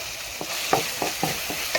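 Tomato and ginger paste frying with onions and vegetables in hot oil for a crab and bottle gourd gravy, a steady close sizzle broken by several sharp stirring scrapes of a spoon against the pan.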